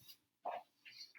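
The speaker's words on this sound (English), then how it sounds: "I'm going to let the dog in." A dog indoors lets out a few short, faint barks and yips at a distance, with brief pauses of quiet between them.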